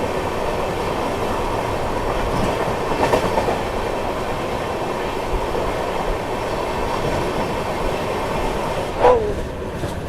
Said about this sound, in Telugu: ఎస్ఎంవిటి బెంగళూరు నుండి హౌడా వెళ్ళే Howrah super fast express crossing